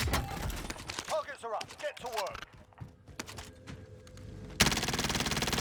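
Rapid bursts of gunfire during a firefight in an online shooter match, clustered in dense volleys early on and returning as a loud, sustained stretch near the end, with talk between the shots.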